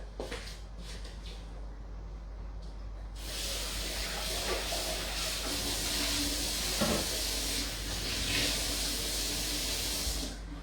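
Steady hiss and sizzle of tomato cooking over the heat in a home kitchen, growing louder after a few seconds and continuing with small crackles, no talking.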